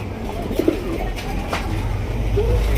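A large pair of Chuina pigeons coos softly a few times, low murmuring calls rising over a steady background hum, fairly close but not loud.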